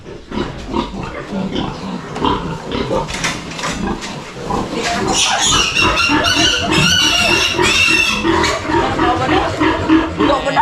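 Loud pig grunts and squeals on a busy farm on a day when two cattle and one pig are being handled, mixed with clattering and commotion throughout.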